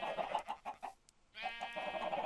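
Chickens cluck in the video game Minecraft, a run of short repeated clucks, a brief pause, then another burst of clucking, moderately loud with no talk.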